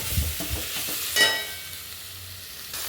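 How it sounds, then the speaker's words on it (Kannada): Ginger garlic paste fries in a pan and is stirred, giving a few close scraping strokes over a soft sizzle that fades toward the end. "ಶುಂಠಿ ಬೆಳ್ಳುಳ್ಳಿ ಪೇಸ್ಟ್, ಅದು ಸ್ಮೆಲ್ಲು ಚೆನ್ನಾಗಿ ಹೋಗೋವರೆಗೂ ಸ್ವಲ್ಪ ಕೈ ಆಡಿಸಿ."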